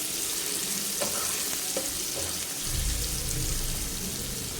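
Onion paste with four or five dried red chillies sautéing in a pan, with a dense continuous sizzle and occasional light stirring taps. The sound becomes fuller and deeper partway through.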